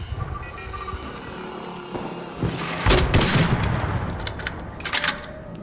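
Gunfire in the video game ARC Raiders: a cluster of loud sharp shots and booming bursts, mostly bunched in the back half, with rumbling ambience underneath.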